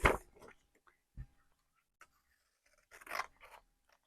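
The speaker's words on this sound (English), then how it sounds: "I'm just going to cut where the top of the page is there" Scissors snip through a sheet of paper along the top of a page during a paper craft, giving a few short, close crisp cuts separated by quiet pauses.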